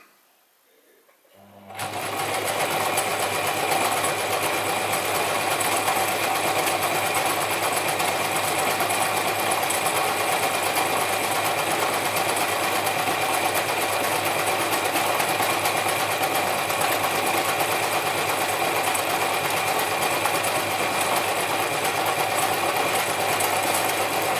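A Gritzner 1002 or Pfaff 307 sewing machine runs a zigzag stitch in a steady, loud, continuous whir with a fast mechanical rhythm, starting after a brief quiet moment and holding on without any talk.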